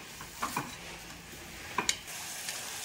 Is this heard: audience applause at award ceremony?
no